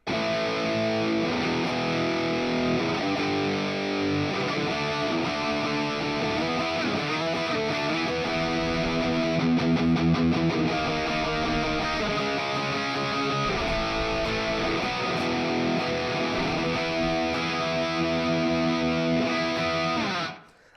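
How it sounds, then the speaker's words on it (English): Budget electric guitar played through its humbucker pickups, a loud, continuous distorted riff with chords and single notes, steady throughout and ending abruptly with no talking. "this is how the humbuckers are sounding."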